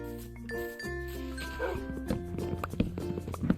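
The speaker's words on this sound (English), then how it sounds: "She's my dog." A dog barks in a Minecraft-style survival game, short yips and barks over steady in-game music and ambience, with a few sharper, louder barks toward the end.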